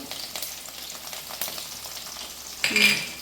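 Onions and curry leaves frying in hot oil for a garlic and pepper kuzhambu, a steady close sizzle with a few stirring scrapes, growing louder in a final burst.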